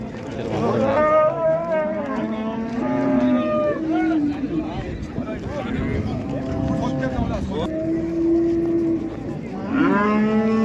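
A young bull moos repeatedly, long drawn-out calls close by, while people talk in the background at the Qarshi livestock market.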